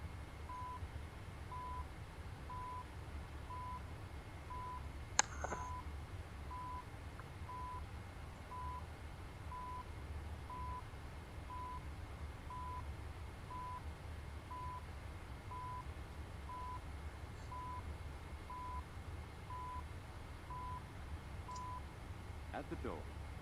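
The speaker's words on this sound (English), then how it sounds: "You hear the beep, that'll tell you the time" Faint, evenly spaced radio time-signal beeps tick along at a steady once-per-second rhythm under a constant low rumble in an X-Plane 12 flight simulator cockpit of a Boeing 777 freighter, with a couple of brief clicks.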